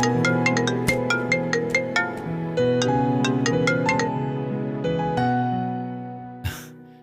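A melodic phone ringtone plays loudly and alone for an incoming call, repeating a bright chiming tune for several seconds before cutting off, with a brief rustle near the end.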